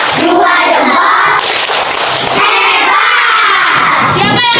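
Indonesian second-grade schoolchildren in a classroom clap and shout a thumb-clap chant together, a loud, close chorus of young voices with rhythmic bursts throughout.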